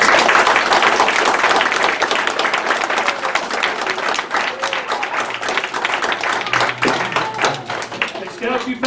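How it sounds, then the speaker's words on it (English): Applause from a gathered audience for Cub Scouts at a crossing-over ceremony, with dense, continuous clapping from many hands that fades slightly toward the end and has some voices mixed in. "Everyone, let's give them a round of applause."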